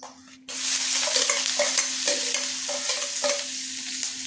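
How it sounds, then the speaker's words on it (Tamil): Onion hits hot oil with a sudden loud sizzle that continues steadily, with occasional stirring clinks and scrapes over the frying. "எண்ணெய் சூடாயிருக்கு ஒரு வெங்காயம் நறுக்கி வச்சுருக்கேன் பொடியை அதையும் போட்டுக்கிறேன்"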